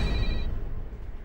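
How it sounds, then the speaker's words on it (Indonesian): A house telephone rings, a short electronic trill at close range over a low, rumbling background, the ring cutting off about a third of a second in with no voices. "Telepon di rumah Todd lalu berbunyi."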